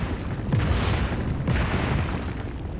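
Bombs falling in the battle game PUBG: a dense, continuous rumble of booming blasts that swells twice, loud and close, with no talk.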